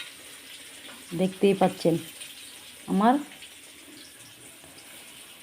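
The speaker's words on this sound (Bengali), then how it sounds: "সুন্দর করে মশলা দিয়ে মাখিয়ে বেগুন ভেজে নিচ্ছি" Spice-coated eggplant slices fry in oil with a steady, soft sizzle running throughout, while a person talks briefly over it in two short bursts.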